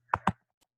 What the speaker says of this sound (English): So I am going to type that.